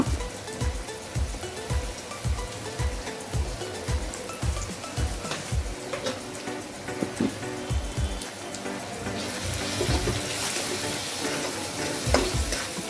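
Turmeric and homemade red masala fry in a pan for a Maharashtrian wild vegetable dish, with rhythmic scraping stirs over a bubbling sizzle that swells into a louder, continuous fry near the end.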